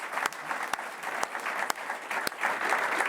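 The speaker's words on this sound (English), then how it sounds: "Can I get a big applause for all those riders behind this success?" An audience at a women's cycling team presentation applauds the team's riders, steady clapping from the crowd that builds slightly toward the end, broken by a few sharp louder claps.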